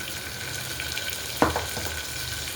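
Tomatoes are tipped into hot oil and mixed, a constant frying hiss broken by one sharp clatter and a softer scrape midway, up close with no speech.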